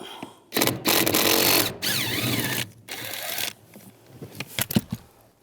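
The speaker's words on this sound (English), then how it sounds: "Now I'm going to use a 13mm socket, take this bolt out." A 13mm socket on a ratchet removing a bolt from the steering of a 1998-2010 Volkswagen Beetle: close, loud bursts of rapid ratcheting clicks separated by short pauses, with no talking.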